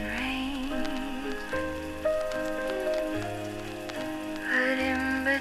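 Rain falls steadily in a wartime-themed ambience, a constant patter mixed with soft old radio music playing throughout.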